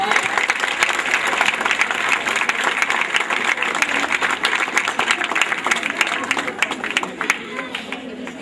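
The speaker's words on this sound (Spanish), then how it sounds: "Un aplauso, por favor." A school audience applauds during a ceremony handing out netbooks to students, with sustained loud, dense clapping throughout and crowd noise mixed in.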